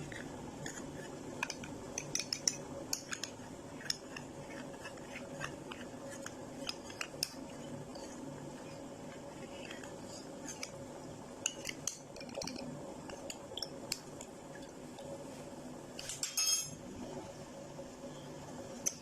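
A spoon stirs a cornflour-and-water slurry into tamarind sweet-and-sour chutney in a pot, giving soft, repeated clinks and scrapes against the metal at close range, with no talking.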